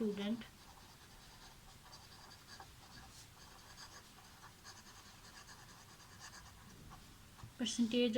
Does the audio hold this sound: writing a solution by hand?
yes